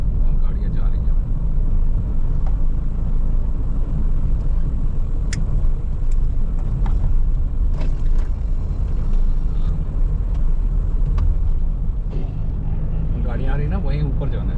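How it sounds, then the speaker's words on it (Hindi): Vehicles climb a steep hill road on a Goa to Pune route, a dense, continuous engine rumble and road roar with a few sharp clicks and muffled voices mixed in. "वहाँ गाड़ियाँ जा रही हैं।"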